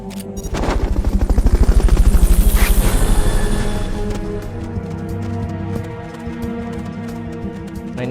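A helicopter in the video game Metal Gear Solid Peace Walker thumps with loud, rapid rotor beats that swell and then ease into a steady drone under a layered game soundtrack.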